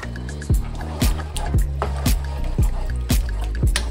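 Heavy whipping cream is stirred into a jerk chicken pasta sauce, making a rhythmic squelching liquid sound with regular wet slaps about twice a second, close by and without talk.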